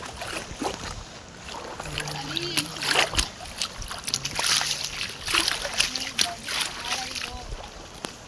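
A coracle moves across water at Shivanasamudra with gentle sloshing and paddle splashes, while people talk nearby throughout.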